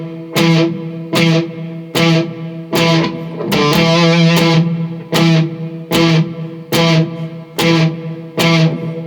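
Distorted electric guitar plays the verse of a song as short, staccato chord stabs in a steady rhythm, with one longer, more sustained chord midway, loud and close with no voices.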